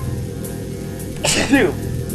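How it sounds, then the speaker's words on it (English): A single sneeze from a person playing Metroid Prime, short and sharp, close to the microphone over a steady low game soundtrack. "I sneezed."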